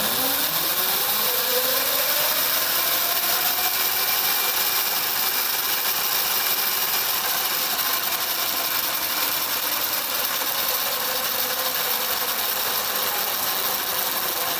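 A 48-volt electric dirt bike motor spinning up from a stop to full throttle with no load beyond the rear tire, a rising whine that settles into a loud, steady high-pitched drone.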